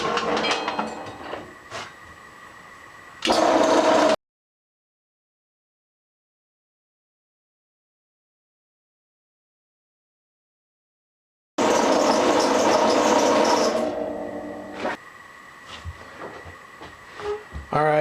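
The motor of a homemade shaper attachment trimming the end of a workpiece: a loud mechanical whir and grinding chatter in two bursts, separated by a long stretch of complete silence.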